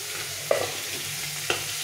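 Small fish frying in hot oil in a pan give a steady close sizzle, broken by two brief clinks of stirring about a second apart.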